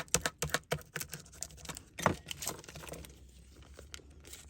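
A plastic sheet is rubbed down over sticky embossing with a burnishing tool, giving a run of quick, close, dry scraping and crinkling strokes in uneven rhythm, fading into softer rustles toward the end.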